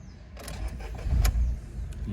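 A 2017 Volkswagen Voyage 1.0 Trendline cranks and its engine catches, turning into a low, steady idle rumble heard from close by inside the car, with no talking.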